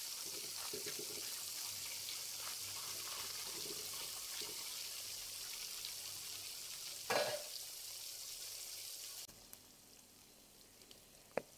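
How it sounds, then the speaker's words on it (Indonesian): Small anchovies fry in hot oil in a home kitchen, giving a faint steady sizzle with soft scraping stirs and a brief louder clatter, then a quieter stretch ending in a sharp click. "Setelah minyaknya panas, goreng terinya."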